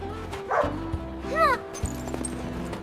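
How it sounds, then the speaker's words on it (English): A big dog barks and yips in a few short bursts with a whimpering, rising cry among them, fairly close, over a layered background of other sounds. "It is a dog, and it looks big."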